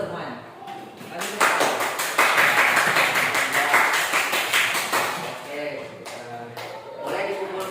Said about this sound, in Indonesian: Oh, tepuk tangan dulu semuanya.